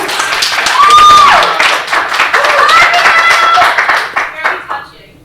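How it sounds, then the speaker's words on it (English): Audience applause and clapping after a student's singing performance in a vocal masterclass, with a burst of cheering and whistles over steady clapping that fades out near the end. "let's give Yora a round of applause"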